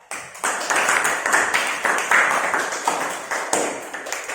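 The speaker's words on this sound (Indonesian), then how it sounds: "Kita berikan aplaus ya" A classroom group of students and teacher clap for a student group after its presentation, steady close applause that starts abruptly and continues for several seconds.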